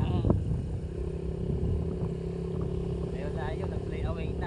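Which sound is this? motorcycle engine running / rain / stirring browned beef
motorcycle engine running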